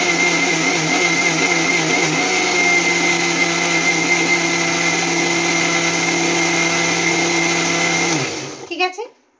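An electric mixer grinder whips a thick mixture until frothy, a loud, steady motor whir running for about eight seconds before stopping abruptly, followed by a brief rattle as it winds down.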